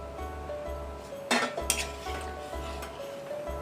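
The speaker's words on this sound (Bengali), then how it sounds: "ফ্লেমটা একটু হাই করে দিলাম, দিয়ে এটাকে এবার কষতে দিলাম।" Mutton kosha being stir-fried in a pan over a high flame in a Bengali kitchen: repeated metal clinks and scrapes of a spoon against the pan over a steady low hum and faint sizzle, with two sharper clatters near the middle.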